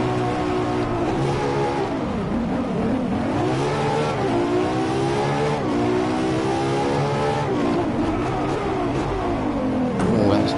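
A race car engine in Driveclub revs and climbs through gears in repeated rising sweeps, loud and continuous, with faint tire noise and no talk.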